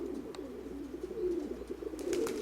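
A pigeon in a loft coos close by in a low, soft, rolling murmur that continues through the whole moment, with faint rustles over it.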